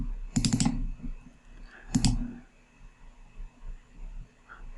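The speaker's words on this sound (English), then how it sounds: "Come back here and again click, add a line there, click, double click." A computer mouse clicks twice while drawing lines in 3D sketch software. The clicks are sharp and separated by about a second and a half, over a faint room hum.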